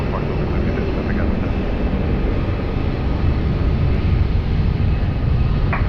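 At Lisbon Airport, an airplane takes off from runway 20 with a loud, continuous engine roar, broad and steady, while faint radio chatter sits underneath.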